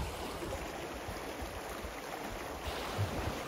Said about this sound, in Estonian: See vesi suliseb. Vesi läheb järve siit.